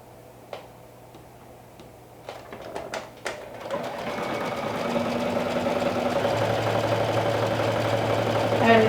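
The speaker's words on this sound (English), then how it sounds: "let me do a triple stretch stitch" A sewing machine stitches a triple stretch stitch along a sleeve seam, starting after a few brief clicks and then running as a steady, fairly close whir to the end, with a low hum underneath throughout.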